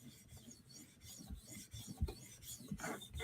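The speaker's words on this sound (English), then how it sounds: "it's the 800 grit premium half-stone CBN, cleaning up 400 grit edge just with 1 pass" A knife edge drawn across an 800 grit CBN half-stone, cleaning up a 400 grit edge: short, close, soft rasping scrapes with a few irregular strokes and no talking.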